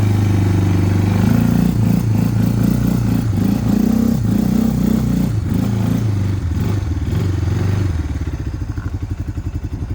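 Engine of a utility vehicle with a Linhai M170 or Mikilon Hardy motor, revving hard and loud up to about 3,500-4,000 rpm while climbing a 40-45 cm rise, then easing back to a rough, pulsing idle.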